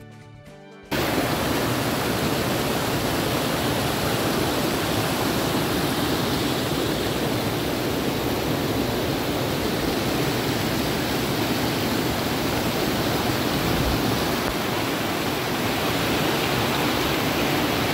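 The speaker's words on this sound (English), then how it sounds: "Enjoy the voice of natural waterfall." A natural waterfall in Plitvice Lakes National Park, Croatia, roars as a steady, loud, dense rush of falling water that holds unbroken for the whole stretch after a brief quieter opening.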